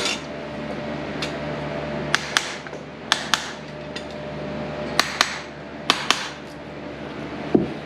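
A farrier's hammer drives nails into a horseshoe on a horse's hoof, striking sharp metallic taps in pairs and small bursts spread across several seconds, close and clear over a low steady background hum.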